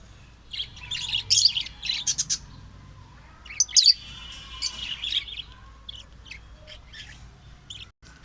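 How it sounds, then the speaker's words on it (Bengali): Lutino cockatiels in a breeding pair chirp in bursts of shrill, close calls with short quiet gaps between them, some calls harsh and squawky, over a low background hum. "আজকে খুবই সুন্দর সুন্দর কিছু cockatiel, lutino cockatiel running breeding pair আছে"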